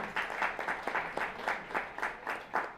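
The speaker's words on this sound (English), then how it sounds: "A big round of applause to Arjun." Students in a commerce lecture hall clap for a classmate, a fairly faint, sparse round of applause with distinct rhythmic claps pulsing over a few seconds.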